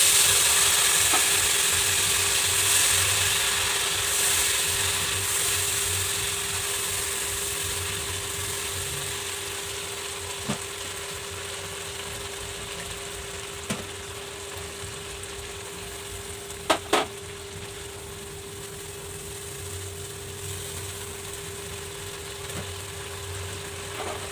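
A paste of mustard, poppy seed and green chili fries in hot oil with nigella seeds, giving off a steady, bright sizzle that slowly softens. A few faint clicks break through now and then.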